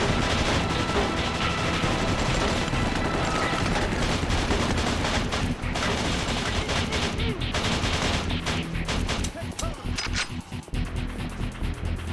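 Rapid gunfire from the video game Kill.Switch, dense bursts of automatic shots and impacts running loud and nearly continuous, thinning into sparser shots toward the end.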